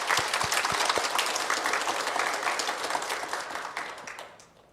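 A church congregation applauds during a Sunday worship service marking the church's 45th anniversary. The clapping starts full and dense, a few sharper claps stand out, and it slowly fades out over several seconds. No one speaks.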